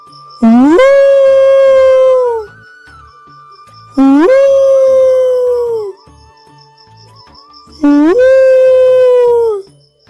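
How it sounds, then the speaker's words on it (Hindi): A cartoon jackal lets out three long, loud howls, each rising and then holding before it fades. Short silent gaps separate the howls. "लेकिन सियार उसकी बात नहीं मानता है और चिल्लाने लगता है"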